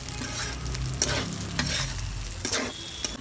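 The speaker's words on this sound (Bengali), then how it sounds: "আর আমি পেঁয়াজ দিয়ে আর কাঁচামরিচ দিয়ে ভেজে নিলাম।" Chopped onion and green chili fry in a pan with a steady sizzle while a utensil stirs and scrapes them in several distinct strokes.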